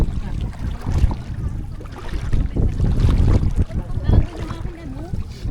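A small outrigger boat (bangka) ride near an island off Pasig, with wind buffeting and water sloshing under lively chatter from several people on board.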